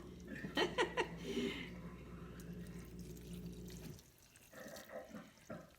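Salt water brine is poured into a sauerkraut jar, a loud gurgling splash that runs for several seconds and then cuts off, leaving faint trickles and drips.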